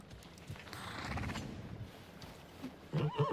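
A horse in the video game Icarus whinnies briefly, with hoof clops and a few rhythmic snorts toward the end, fairly faint and close, with no talk.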